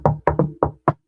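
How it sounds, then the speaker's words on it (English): Five hollow knocks on pressed laminate made to look like wood, in an uneven rhythm: two quick pairs and then a final single rap, close and fairly soft. "I'm knocking on pressed laminate that looks like wood."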